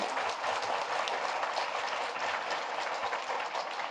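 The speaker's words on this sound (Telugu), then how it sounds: "చప్పట్లు కొట్టండి ఒప్పుకునే వాళ్ళందరూ." Audience applause at a spiritual talk on Sanatana Dharma and Hindu living, a dense, steady wash of many hands clapping continuously throughout, fairly loud and without speech.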